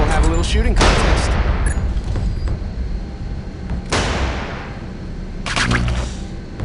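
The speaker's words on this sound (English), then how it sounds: "grab some ammo and we'll have a little shooting contest" Heavy gunfire in a shooting contest in the 2005 video game Area 51, loud booming shots with long decaying tails, one early, one mid-clip and a burst near the end, over continuous game ambience.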